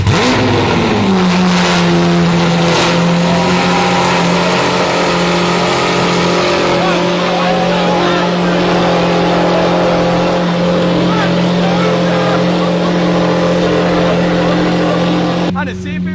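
A Lamborghini with a newly installed exhaust idles and revs loudly and close by, its steady engine drone rising at the start and holding. Voices speak over it.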